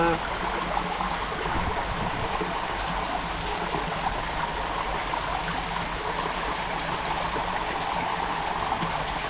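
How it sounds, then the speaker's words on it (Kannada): Water flows steadily in a stream beside Niralla Sri Lakshmi Ranganatha Temple in Hassan, a continuous close rushing and burbling that carries on without pause. "ನೋಡಿ, ನೀರು ಫುಲ್ಲು ಚೆನ್ನಾಗಿ ನೀಟಾಗಿ ಹರಿತಾ ಇದೆ."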